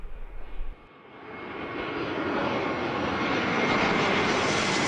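Airliner engines roar steadily inside the cabin during a Cyprus Airlines flight. After a brief low thump, the broad, even rush of the engines rises and holds close and loud with no talk.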